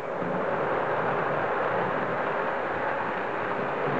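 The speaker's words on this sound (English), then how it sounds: "I'm going to bring the passenger train back in front of the station and stop it right there by using my switch." A model passenger train runs on a Christmas layout with a steady, continuous rolling rumble and hum that stays close and even throughout, with no voices.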